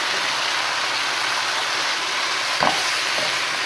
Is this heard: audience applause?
no